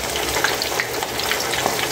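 Pork belly frying in very hot oil, a dense, steady crackling sizzle filling the whole span with small pops scattered through it, close and fairly loud.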